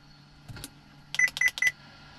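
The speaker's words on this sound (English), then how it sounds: "The beeping is a little loud." Three quick, sharp electronic beeps in a row from a Volvo S60, close and fairly loud, after a couple of softer clicks.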